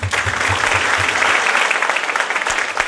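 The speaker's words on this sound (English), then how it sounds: "Please clap for yourself" Dense, steady applause from a live audience at a stage event, loud and sustained throughout with no talk over it.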